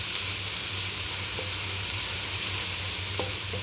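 Onions frying in a pan until browned make a constant dense sizzle, close and even, with a couple of faint scraping touches from stirring.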